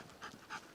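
A hunting dog pants in quick, rhythmic breaths during a rabbit hunt in the Lapland forest, heard close by in a short, quiet burst.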